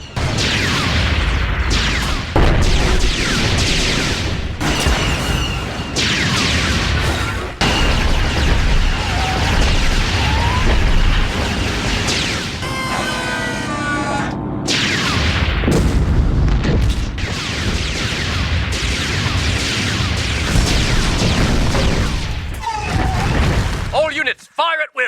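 Star Wars AT-TE blaster cannons fire in repeated heavy booming blasts, loud and dense, with bursts of crackling impacts throughout and voices shouting between shots.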